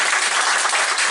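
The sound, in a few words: applause for a speaker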